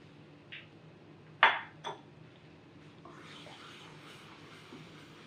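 A spoon clinks sharply against a pan a few times as chana dal barfi mixture is stirred into jaggery syrup, then gives way to a soft, continuous scraping and mixing sound at moderate closeness.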